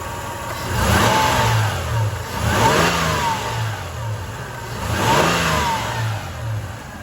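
A warmed-up 2002 Toyota 4Runner SR5 engine running nearby, revved up three times in slow, rising and falling surges with a steady idle between them.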